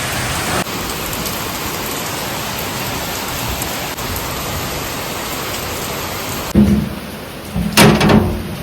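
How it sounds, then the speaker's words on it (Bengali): Heavy rain pours outdoors under thick dark clouds, a dense, steady roar of falling water that holds for several seconds before shifting into louder, uneven splashes and thumps near the end. "বাইরে দেখো কি প্রচন্ড বৃষ্টি হচ্ছে, একদম ঘন হয়ে কালো মেঘ করেছে"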